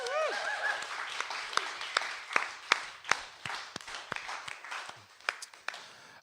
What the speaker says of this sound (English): Can we have a big round of applause for both our performers tonight?